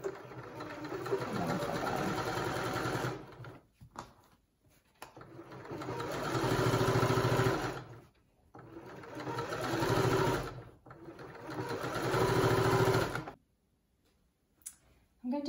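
A sewing machine stitches a pocket onto pyjama trousers, running in three long bursts of steady rapid whirring with short pauses and quiet handling between them.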